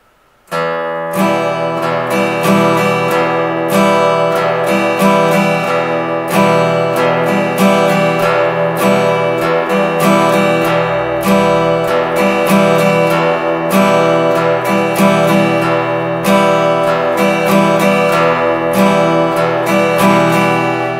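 Bright acoustic guitar strummed in an even, straight hornpipe rhythm, with evenly spaced quaver strokes repeating over a steady chord pattern, loud and close.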